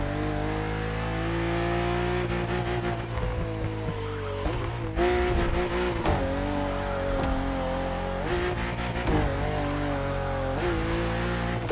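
A BMW CSL in a video game drives with a loud, continuous engine drone and steady harmonics, briefly revving and shifting several times along the way.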